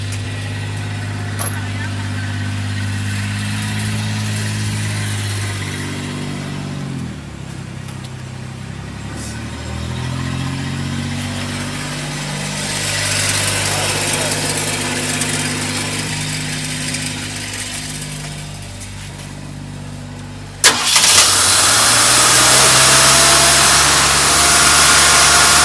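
A 1972 Ford F100 pickup with a freshly replaced accelerator pump idles roughly with a low, throbbing drone, then revs harder in rising and falling swells before a sharp jump to a louder, higher-revving roar near the end.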